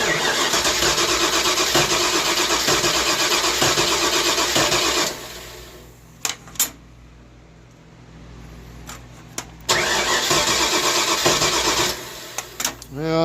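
An old project car's engine cranks hard but never catches, the distributor failing to fire, with a newly relocated battery: two long, loud bursts of churning starter noise separated by a quiet pause with a few clicks.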